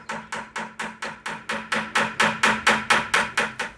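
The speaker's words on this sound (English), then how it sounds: "Hammer in nails or staple the fabric to keep it in place" Nails are hammered into a wooden pallet in a fast, even series of about fifteen sharp, close blows that grow slightly louder toward the middle, with no talking.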